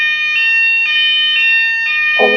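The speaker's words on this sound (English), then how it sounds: "Oh no, there is a fire alarm. Everyone run." A school fire alarm rings loudly and steadily in repeating electronic tone pulses, close and dominant, with a brief voice-like sound at the very end.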